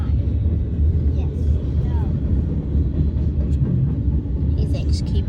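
A mile-long freight train hauled by seven locomotives rumbles past nearby in a continuous low, heavy drone, with faint wheel squeals and clanks on top.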